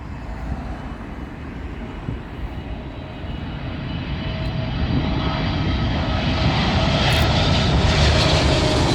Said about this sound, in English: Kuwaiti 787 Dreamliner from Kuwait City